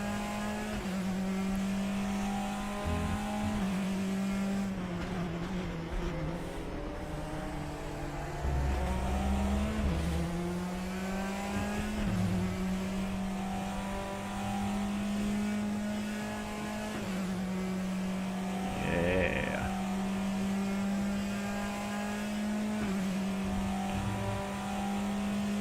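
Race car engine in the RaceRoom racing game holding a steady drone with shifting revs across the lap, a sustained loud motor tone throughout and a brief higher surge near the end, no talk.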